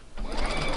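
Domestic sewing machine running a short back-stitch burst while joining firm interfaced fabric, right sides together, steady close mechanical whirr with a brief pause near the start.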